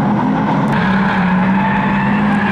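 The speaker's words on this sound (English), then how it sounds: "360 Waterfield goes spinning around and out there as well." Saloon stock cars racing at Kings Lynn in the English Championship, heard as a loud, sustained engine roar with a steady whining tone and tyre noise, continuous and close throughout.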